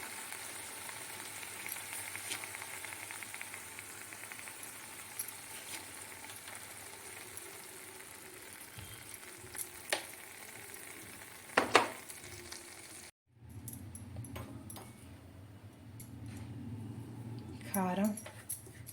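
Tomato pieces fry in a pan for a tomato pickle, giving a steady soft sizzle with occasional scraping stirs. Someone talks over the cooking, and after a brief cut the frying continues with a louder, fuller crackle.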